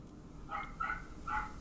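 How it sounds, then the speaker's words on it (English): A dog barks a few times somewhere in the background, three short moderate yelps spaced across a quiet room-tone bed. "I do apologise for that dog barking in the background."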